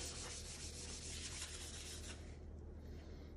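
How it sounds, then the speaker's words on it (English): A clean cloth rubbing over a wood surface finished with water-based polyurethane tinted with India ink, a steady close swishing friction that fades near the end. "if I use a nice clean cloth, if the ink will rub off onto the cloth."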